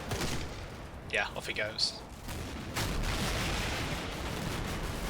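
A VOG grenade launcher fires in the video game Combat Mission: Black Sea, a sudden booming report that rolls into a sustained rumble against steady background noise, with someone speaking briefly just before.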